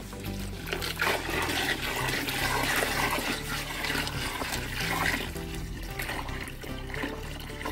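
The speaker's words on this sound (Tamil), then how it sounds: "தண்ணி காய்ஞ்சி நல்லா கொதிக்குது." Water bubbles and churns steadily at close range, a continuous rolling boil in a pot during homemade castor oil making, with no voices.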